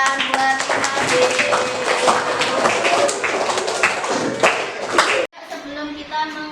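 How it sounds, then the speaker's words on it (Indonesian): Schoolchildren in a classroom clap together in a fast, crowded patter of hand claps, loud and close, with voices over it, before the clapping stops abruptly near the end and only a quieter voice remains. "Tepuk tangan buat Nabi"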